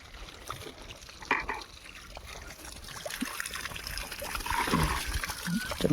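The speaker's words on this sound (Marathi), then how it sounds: "आता आपल्या बादलीला पाणी टाकू आपण" Water splashes and trickles into a bucket, the pouring growing louder and fuller toward the end, with voices murmuring faintly underneath.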